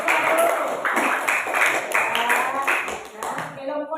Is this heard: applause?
yes